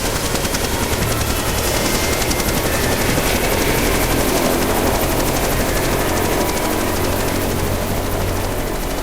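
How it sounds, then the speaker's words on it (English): A helicopter from the Jurassic Park video game flies close and loud, its steady thumping rotor and engine roar filling the whole stretch without a break. "Set the chopper down."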